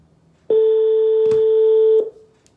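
A steady electronic phone tone sounds for about a second and a half, clear and close, with a faint click partway through.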